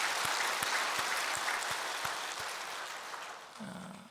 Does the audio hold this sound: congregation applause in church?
yes